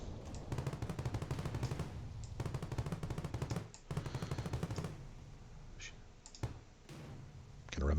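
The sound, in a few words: small ship machine gun firing in Star Vortex video game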